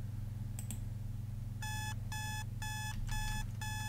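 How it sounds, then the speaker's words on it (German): An electronic alarm goes off in modded Minecraft with GregTech machinery. It gives five quick bursts of bright beeping over a constant low machine hum, and the whole sound is fairly quiet. "Wieso kommt hier gerade ein Alarm?"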